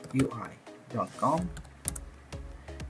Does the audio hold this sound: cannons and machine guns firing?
no